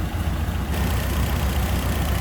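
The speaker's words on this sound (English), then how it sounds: "You hear how smooth that purrs. Nice runner, good sounding engine." A 1928 Ford Model A with a 201 cubic inch inline four-cylinder engine idling under an open hood, a smooth, steady low rumble heard up close with no talking.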